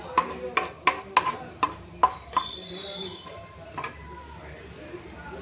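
A wooden spoon scrapes and taps against a mud pot while stirring cumin in coconut oil, giving about seven sharp, close knocks in an uneven rhythm and then softer scraping and sizzling, with a voice talking briefly.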